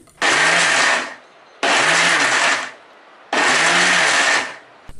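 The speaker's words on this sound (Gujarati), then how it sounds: "પલ્સ બટન દબાવીને દાળને અધકચરી ગ્રાઇન્ડ કરીશું." A mixer grinder pulse-grinding soaked lentils coarsely for dal vada: three loud whirring bursts of about a second each, separated by brief pauses, close up.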